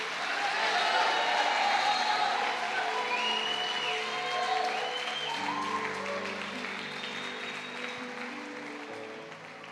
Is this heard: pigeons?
no